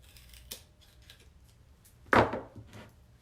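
Scissors snip while trimming a Thanksgiving Pilgrim wreath, a single sharp, close cut standing out with a fainter snip or two before it in a quiet room.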